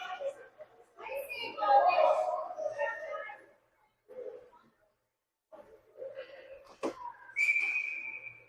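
A referee's whistle at a Jr. Canes AAA youth ice hockey game gives one sharp, shrill blast near the end, heard under an excited commentator's voice.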